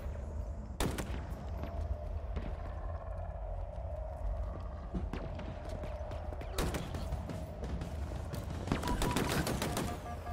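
Sniper and other gunfire in the Halo Infinite campaign on Legendary: a few sharp, distinct shots stand out amid a busy rattle of combat and impacts, moderately loud throughout.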